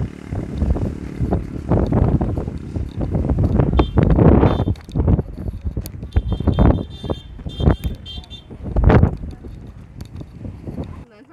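Strong gusty wind on the Đại Ninh mountain pass in Bình Thuận, Vietnam, buffeting the microphone in loud, roaring surges throughout, with someone talking over it at times.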